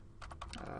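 A short, quiet burst of keystrokes on a computer keyboard, about half a dozen quick taps in an even rhythm.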